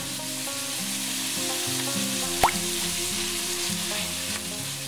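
Minced meat frying in a pan with oyster sauce and chili peanut sauce for spicy tantanmen ramen, a steady close sizzle with soft stirring scrapes and one sharp knock midway.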